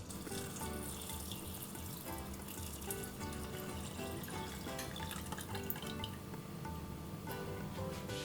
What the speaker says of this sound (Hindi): इसी के साथ डालूंगी मैं इसके अंदर पानी।